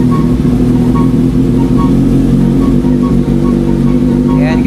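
A Kawasaki Z1000R motorcycle engine idles steadily and loudly nearby, a constant low rumble with no talking over it.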